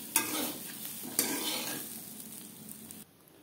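Fried bitter gourd being lifted out of an oily pan, a soft sizzle with a couple of sharp scraping stirs near the start, fading to quiet at the end.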